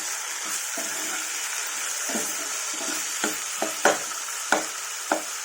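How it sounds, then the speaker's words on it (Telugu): Yam curry with turmeric and salt frying in a pan, heard as a steady sizzle broken by several sharp stirring scrapes and taps that grow more frequent toward the end, close by and without speech. "ఒక ఫైవ్ మినిట్స్ వేయించండి"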